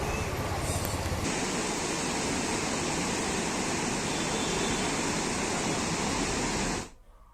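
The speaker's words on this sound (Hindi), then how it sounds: "नदी नाले उफान पर हैं, लोगों के घरों में भी पानी भर गया है" Rivers and drains in flood after a cloudburst in Chamoli roar as a dense, steady rush of water, loud and close throughout, ending abruptly near the finish.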